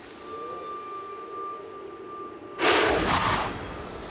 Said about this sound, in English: Big explosion, bang.